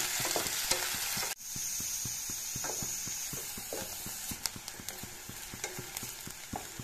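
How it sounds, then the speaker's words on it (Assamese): Onions and spice paste fry in a pan for chicken curry, a soft steady sizzle under regular rhythmic scraping strokes of a spoon stirring, close and fairly quiet, with no talking. "ইয়াতে এতিয়া পেষ্টখিনি দি দিলোঁ একেলগে। পিঁয়াজখিনি অলপ ৰংচঙুৱা হ'বলৈ দিম।"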